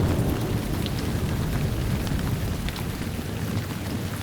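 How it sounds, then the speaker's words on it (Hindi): Steady rain pours down outdoors in a Hindi TV drama scene, a dense, even hiss that stays constant throughout with no voices. "तू बारिश में भीग क्यों रही है?"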